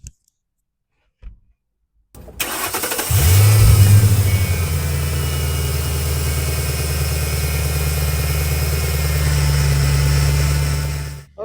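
A 2008 Ford Mustang GT/CS convertible V8 cranks briefly, catches with a loud rev and settles into a steady, deep idle that rumbles on close by for several seconds.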